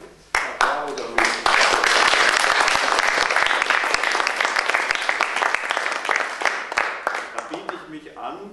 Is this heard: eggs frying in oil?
no